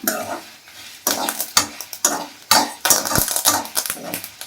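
Spices for mutton gravy fry in a pan in bursts of crisp sizzling, broken up by the scrape and clatter of a spoon stirring against the metal, close and loud with short pauses between.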